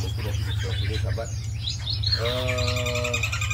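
Birds in an aviary at feeding time chirp and tweet in quick, overlapping calls close by, with a longer clear whistled call near the end over a low steady hum.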